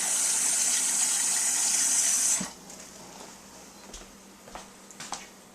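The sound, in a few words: hot water running from the tap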